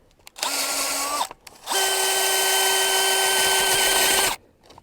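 Power auger boring holes in garden soil for daffodil bulbs, a loud close motor whine in two bursts, a short one then a longer steady run, with slight grinding as it meets rock.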